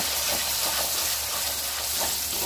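Chopped onion with ginger-garlic paste, turmeric and chilli powder sizzles steadily in a hot pan for a Bengali flat-bean mustard curry, a dense close frying hiss with faint stirring scrapes and no talk.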